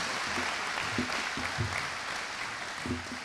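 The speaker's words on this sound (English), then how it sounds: "Clap it up for them." Audience at a high school booster club senior awards program applauds the coaches, a continuous room-filling clapping with a few louder individual claps and faint voices underneath.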